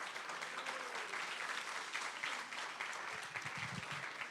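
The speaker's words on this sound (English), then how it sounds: "Let's give her a nice round of applause" Audience applause at a jazz consortium anniversary gala, a steady wash of clapping from a sizable crowd that stays even and moderately distant throughout.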